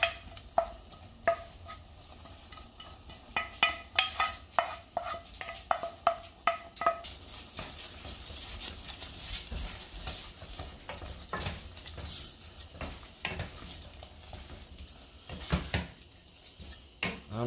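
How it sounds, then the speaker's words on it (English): Brown sugar, bacon, onions and celery cook on low heat in a pan for baked beans, under a soft sizzle with frequent clicks and scrapes of a spoon stirring against the pan. "I'm just going to continue cooking this on low heat and stirring it pretty much constantly before I add the beans."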